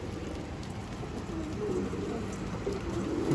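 Banded pigeons cooing on a rooftop, soft low coos against a steady wash of outdoor background noise.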